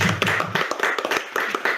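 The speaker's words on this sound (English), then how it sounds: "Big round of applause for that." A brief patter of hand claps after a debate speech, a few close, sharp, irregular slaps from a small audience, short and sparse.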